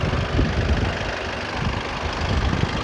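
A 2019 Volkswagen Arteon diesel engine idles with a steady, close mechanical rumble and a faint rhythmic knock and slight shake, with no talking over it.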